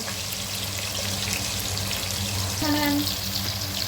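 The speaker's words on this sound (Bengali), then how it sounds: "এখানে আমি 1 টেবিল চামচ লবণ অ্যাড করে দিচ্ছি, দিয়ে পেঁয়াজটা হালকা ভেজে নেব।" Sliced onions fry lightly in a pan after salt is added, giving a soft, steady sizzle with a brief tonal hum near the end and no clear speech.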